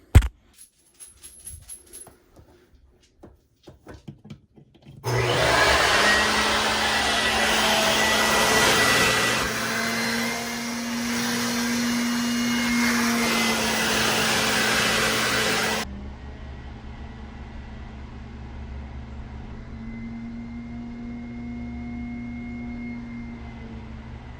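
A dryer vent cleaning machine starts up abruptly after a few faint handling clicks, roaring loud and steady with a high whine for about ten seconds, then settling into a quieter continuous hum.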